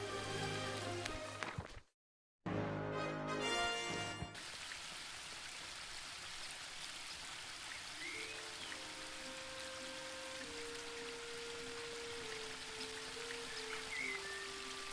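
A waterfall in the video game The Book of Unwritten Tales 2 gives off a steady, soft rushing hiss beneath quiet game music. It is cut off briefly near the start, then resumes and carries on evenly.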